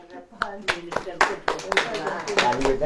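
A congregation at a church sermon claps in scattered, uneven bursts, the claps fairly close and mixed with someone speaking.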